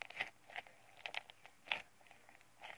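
Crunchy slime packed with beads is squeezed and worked by hand, giving a handful of soft, close crackling crunches at irregular intervals, quiet and alone.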